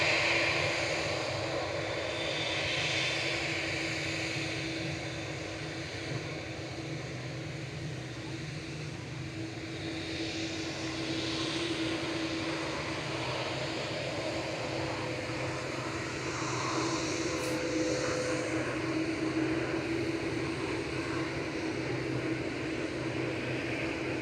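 A TUI Boeing 787-8 Dreamliner departing Manchester for Cancun produces a faint, sustained engine drone with a thin steady whine, distant and unbroken, with no one speaking.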